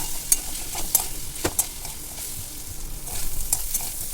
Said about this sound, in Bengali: এক চামচ আদার পেস্ট দিয়ে দিলাম দিয়ে ভালো করে কষে নিচ্ছি